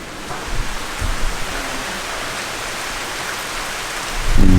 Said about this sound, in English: it's raining but why does it rain wherever I go again it's raining here